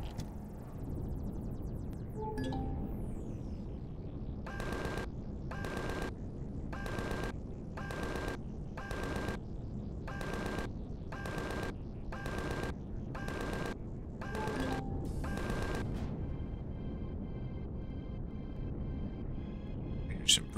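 Gunfire in the space game Empyrion aimed at drones, about a dozen evenly spaced bursts in a steady rhythm, each a sharp loud blast over a constant low drone.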